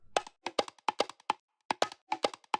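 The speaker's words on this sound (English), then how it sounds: "So yeah, then I added more bongos," Bongo loop in a music production, bright dry hand-drum hits in quick syncopated clusters with a short gap midway, close and fairly quiet with no other instruments.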